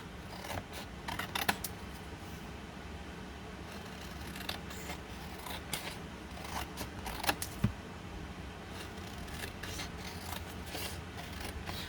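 Scissors snip through strips of food packaging for bead making, producing quiet, close, repeated cutting clicks and crisp plastic rustles in a steady rhythm.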